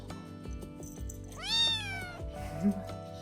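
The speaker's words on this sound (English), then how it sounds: "that's her feisty little meow" A single rising, drawn-out cat meow stands out clearly against faint background noise, followed by a brief softer chirp.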